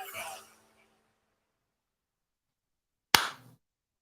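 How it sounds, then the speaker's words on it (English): A single sharp hand clap rings out alone after a brief stretch of trailing talk and silence, struck once as an editing sync mark. "that's so Andy can edit, clap there"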